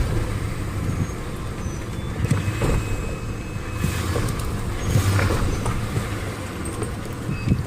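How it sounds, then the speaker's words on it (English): BorgWarner transfer case chain on a vehicle clunking and banging while turning, a loud rumbling drivetrain noise with irregular knocks that shake the car, steady throughout with no talk. "That's the transfer case chain."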